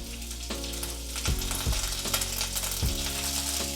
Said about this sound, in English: frying the freshly pounded kroeung to release that deep,